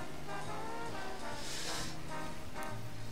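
A car horn in the Mafia remake video game, heard on a rainy night drive: a steady, tonal honk sounding against constant engine and rain noise, with no talking.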